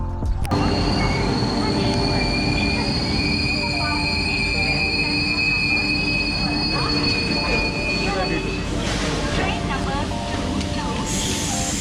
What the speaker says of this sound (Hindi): अभी हमारा ट्रेन आ गया है